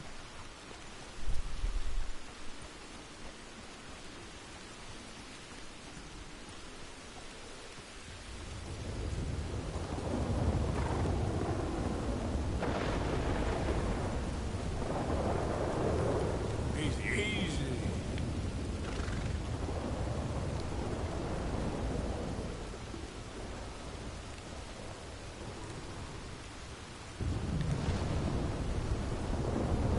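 Thunderstorm with heavy rain in Red Dead Redemption 2: a steady, loud wash of downpour that swells after a quieter opening, with low rumbling underneath and a short spoken exclamation partway through.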